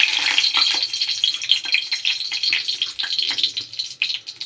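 Dried red chilli drops into hot oil for a tempering while cooking egg curry, a bright crackling sizzle that holds close and loud for several seconds with uneven spitting bursts and no talk.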